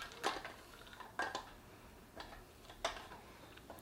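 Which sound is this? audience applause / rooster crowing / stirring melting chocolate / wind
stirring melting chocolate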